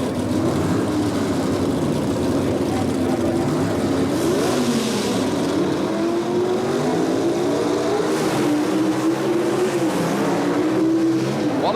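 Sportsman drag racing cars at the 1977 NHRA Springnationals, handicap eliminator, accelerate down the strip. A loud, continuous engine roar rises and falls in pitch as the cars run, with crowd and track ambience beneath.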